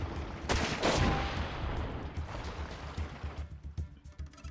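Weapon fire from the mech combat game Front Mission 4, a dense roaring barrage that swells early and then tapers into a series of quieter, choppy shots.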